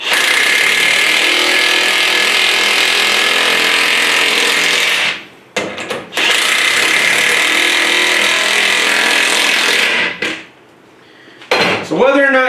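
A DeWalt XR cordless power tool drives lag bolts in two long, loud, steady whirring runs separated by short pauses, followed by a brief final burst.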